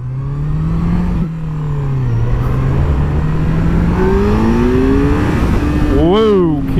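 A 2016 Kawasaki Z800 ABS motorcycle engine drones steadily close up, its pitch climbing under light acceleration, then rising and falling in quick revs near the end, with wind noise and a voice briefly talking over it.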